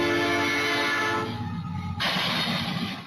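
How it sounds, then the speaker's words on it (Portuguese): A train sounds a long, loud horn blast at a rail crossing in Rio de Janeiro just before hitting a truck; the tone holds for about two seconds and gives way to rumbling rail noise. "O trem chega a buzinar antes de atingir em cheio a carreta."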